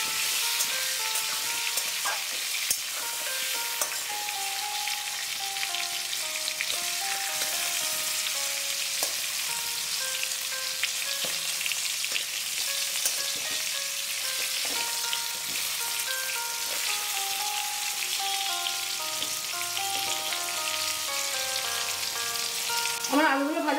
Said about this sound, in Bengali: দিয়ে আলুগুলো আমি ভালো করে ভেজে নেব।